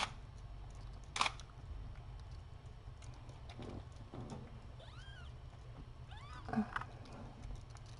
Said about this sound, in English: Adorable kitten.